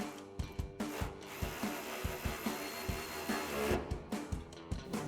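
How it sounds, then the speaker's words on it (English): A hand ratchet with a 13 mm swivel socket clicks rapidly in short bursts while tightening exhaust hanger bracket bolts on a 2005-2007 Corvette with a Borla ATAK cat-back exhaust. The clicking is quiet, close and rhythmic, with brief pauses between strokes. "we'll tighten down our hanger bracket bolts now with our 13 mil swivel socket"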